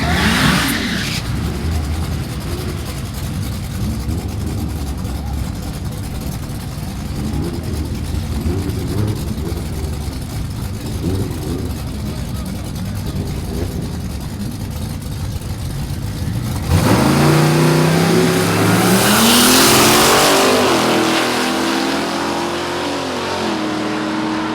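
A Mercedes SLK32 AMG set to 15 PSI of boost at a drag race, its engine droning steadily at the line before a loud launch with rising revs that climb through the gears, close and continuous.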